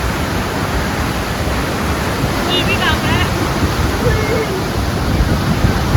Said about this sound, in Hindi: आप देख सकते हैं इस नदी का जो उफान है, क्या उफान है।